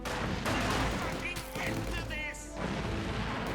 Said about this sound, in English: Infantry fire incoming!